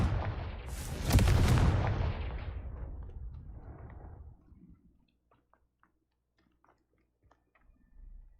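A Confringo blasting spell from the Hogwarts Legacy video game explodes loudly in a burst that swells and then decays over about four seconds, leaving near silence with faint clicks and a small rumble at the end.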